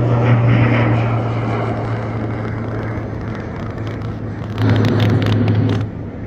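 An Airbus A380 passenger jet's engines give a loud, steady roar with a strong low hum throughout, swelling briefly near the end before easing slightly, with no speech.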